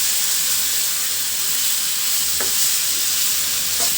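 Fish and potatoes fry with turmeric and garlic in hot oil, giving a steady, close, unbroken sizzle and hiss with a couple of faint clinks of stirring.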